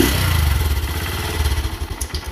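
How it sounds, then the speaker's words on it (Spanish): Motorcycle engine running with its air filter box removed, a loud, close, rapid low throbbing idle with a slightly uneven, rough rhythm. "la motocicleta prendió a la primera"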